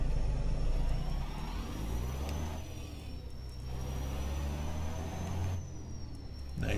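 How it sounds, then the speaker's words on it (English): A heavy truck engine in American Truck Simulator, heard with the cab window rolled down, gives a steady, deep, continuous drone with a faint high whistle running over it throughout. "just so we can listen to the truck for a little while."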